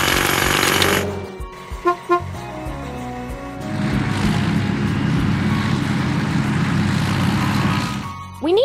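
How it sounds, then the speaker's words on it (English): Hydraulic hammer cracking large rocks in a house-building video game: a burst of rapid mechanical pounding, then short clanks and beeps, followed by a long steady rattling, grinding hammer loop at moderate loudness. "Hydraulic hammer."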